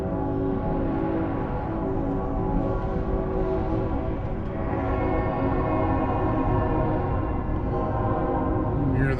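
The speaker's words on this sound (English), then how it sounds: "You hear the train going through town." A train rumbles steadily through a town, close and continuous, with a sustained horn tone layered over the rolling noise of the rail cars.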